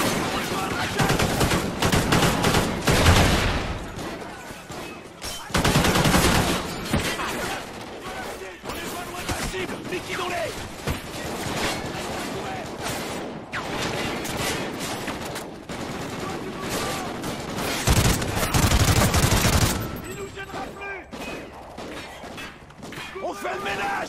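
Sustained battlefield gunfire in the video game Call of Duty Ghosts, with dense bursts of automatic weapons, heavy thuds and crashes rolling on loudly throughout, and voices shouting over it at times.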